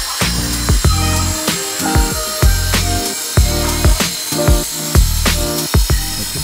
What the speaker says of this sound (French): On fait une première coupe pour vérifier le réglage.